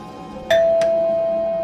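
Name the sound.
doorbell ringing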